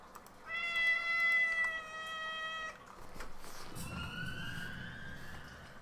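A pet cat gives one long, loud, drawn-out meow close by, followed by a quieter higher-pitched meow, with faint room noise in between.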